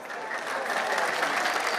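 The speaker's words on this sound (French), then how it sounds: "Mambo Evoni est la plus applaudie." Steady applause from an audience after a speech in the gardens of the presidency in Port-au-Prince, a moderate, even wash of many hands clapping with no voices over it.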